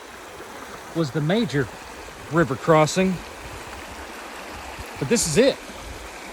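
A river flows steadily at a hiking river crossing in Arkansas, its water running low; a constant broad rushing noise continues beneath several short bursts of nearby talk.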